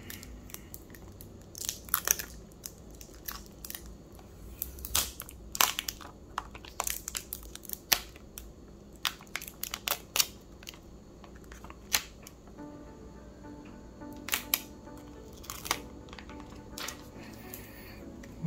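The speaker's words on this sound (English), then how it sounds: "Go ahead and unwrap this." Plastic wrap is crinkled and torn off a Galaxy Z Fold 3 box, giving scattered close crackles and sharp rustling snaps at uneven intervals across a quiet room, with no talking.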